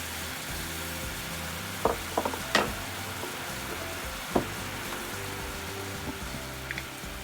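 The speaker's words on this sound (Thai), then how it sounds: "ใส่น้ำปลาค่ะ เคี่ยวไปให้น้ำตาลงวดนะคะ" Fish sauce and sugar simmering down in a pan for Thai sweet fish sauce, a steady low bubbling hiss with a few sharp clinks of a utensil against the pan, close and alone with no voice.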